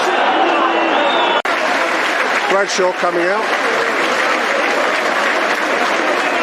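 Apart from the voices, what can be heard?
football crowd applauding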